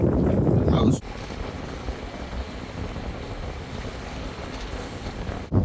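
A boat moves through shallow water over a concrete wreck, giving a steady rushing wash and wind noise after a louder opening second, with a brief loud burst at the very end.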